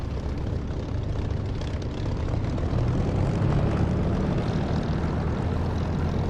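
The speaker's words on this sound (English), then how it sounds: "I better start taxiing," A military aircraft starts taxiing in the DCS flight simulator, its engine giving a steady, loud broadband rumble that swells slightly midway and holds without pause, with no voices.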